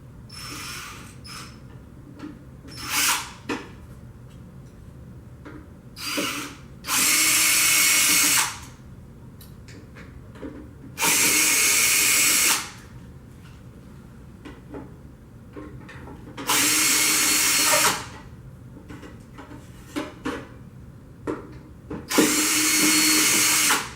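A power drill removes fasteners from a Creation ProCut CR series cutter in loud whirring bursts of a second or two. Between them come quieter clicks and handling noises, with no talk.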